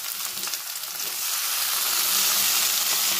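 Potatoes fry loudly in hot oil in a pan as chopped tomato goes in, a steady dense sizzle that swells and stays strong throughout, with no voices.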